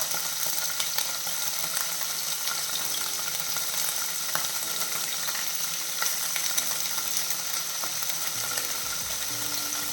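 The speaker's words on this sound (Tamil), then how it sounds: "அதனால் ஷாலோ ஃப்ரை செய்து போட்டுக்கலாம்" Paneer shallow frying in hot oil in a pan, a steady close sizzle with dense crackling and spitting that holds throughout without a break.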